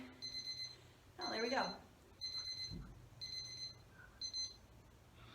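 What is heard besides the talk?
workout timer going off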